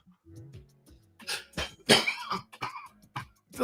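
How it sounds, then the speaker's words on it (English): A few sharp coughs ring out close by, mixed with brief throat noises and short bursts of activity in an otherwise quiet room. "See, that's why you coughed."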